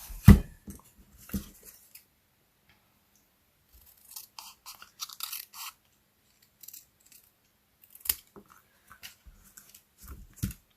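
Scissors snipping through black cardstock during a Stampin' Up! card-making session, with a handful of short crisp cuts and paper rustles scattered between quiet pauses, close and fairly soft.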